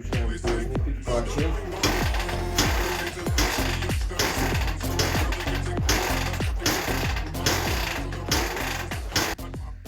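A Ural K-750 motorcycle engine, an old Soviet sidecar bike, runs with the choke engaged: a loud, steady, rough mechanical chugging with rapid repeating beats, close by and continuous without pause.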